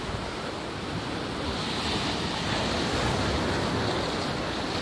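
Ocean waves breaking on a beach on a morning walk, a steady close wash of surf with wind noise, no other sounds.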